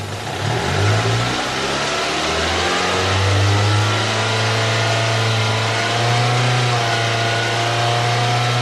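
A Toyota engine being checked for a fuel system fault runs close and loud, rising from a low idle into a sustained higher rev, then holding a steady droning pitch with slight wavering as the speed changes.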